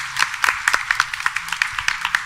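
A temple audience at a Krishna Mandir Sunday service claps for the villagers of Ayodhya, a steady run of quick, fairly close hand claps in an even rhythm, with no talking.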